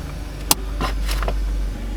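A restored BMW with no dashboard lights makes a short test drive on a property, its engine droning low and steady from inside, with a sharp click and a few brief knocks and creaks.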